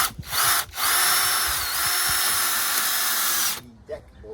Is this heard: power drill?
yes